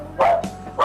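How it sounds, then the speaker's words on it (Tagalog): A dog barks two or three times in quick succession, close and loud. "maingay po yung aso ni Arjon"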